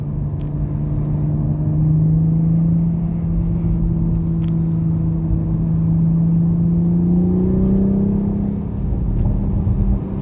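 Steady engine drone from a 2021 Toyota Supra A91 while driving, a loud continuous hum with the pitch slowly rising and falling as it cruises, heard from inside the cabin with no talking.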